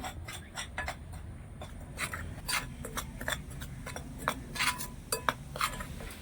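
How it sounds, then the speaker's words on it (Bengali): Dry ingredients being mixed with puffed rice powder in a bowl for a homemade sweet, giving soft scraping and stirring rasps with light clinks of a utensil against the bowl, close and steady, with no talk. "এবার এই শুকনো জিনিসগুলো আমি একটু ভালো করে মিশিয়ে নেব"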